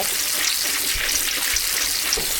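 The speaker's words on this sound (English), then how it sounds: "You do not have to do it with running water if you're concerned about your water usage." A kitchen tap runs steadily as pumpkin seeds are rinsed in a colander, giving a constant broad hiss of splashing water close by with no talk.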